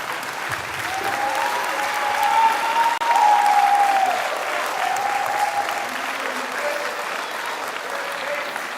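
Sustained applause from an audience in the stands at a college football signing ceremony, a steady clapping crowd for several seconds with a voice audible over it.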